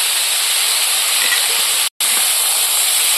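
Ridge gourd greens go into a hot pan of lightly fried potato and eggplant, producing a loud, steady, close sizzle with one very brief dropout partway through.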